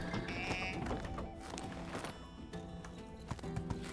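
Horse hooves clip-clop in a steady rhythm in the farming game My Time at Sandrock, a busy mix of game sounds layered around the footfalls.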